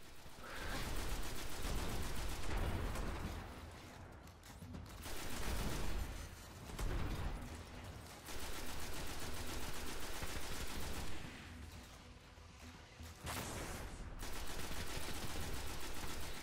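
Sustained bursts of rapid gunfire from a gun in the video game Destiny, loud and dense, broken by short pauses, with no talking over it.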